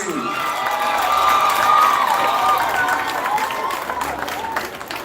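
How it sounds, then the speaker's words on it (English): A large crowd at a school graduation ceremony bursts into sustained applause mixed with cheers and shouts, swelling and then slowly fading over a few seconds. "Another round of applause for DJ Lee."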